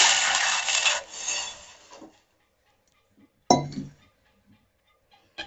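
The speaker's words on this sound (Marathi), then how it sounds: "चला पातेल्यात पाणी ओतून" Water pours steadily into a cooking pot for about two seconds before barnyard millet is added, then a metal clank rings out, followed by quieter kitchen clinks.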